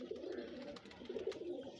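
Soft, low cooing of a blue pigeon repeats in a steady murmuring rhythm, close by, with faint rustling in the background.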